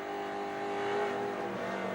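Roaring V8 engine of a 1991 Mobil Holden Commodore VN race car at a racing circuit, loud and continuous at high revs with a slight swell in pitch, no talk.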